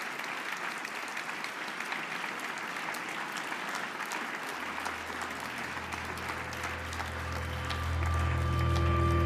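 Steady, full applause from a large forum crowd greets Romania's President, continuous clapping that carries on as a low musical tone rises underneath toward the end.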